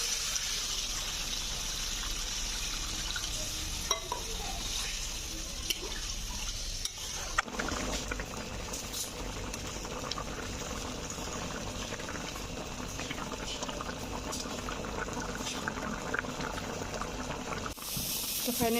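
A gojar fish curry bubbles and boils in a pan after water is added, with a continuous low simmering gurgle, occasional stirring clinks and a faint frying sizzle.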